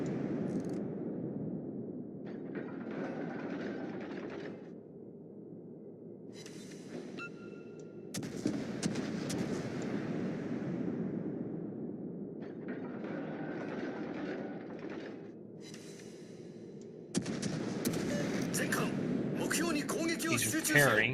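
Naval gunfire in World of Warships battleship combat: heavy booming salvos arrive in several bursts over a rumbling low background, with someone talking throughout.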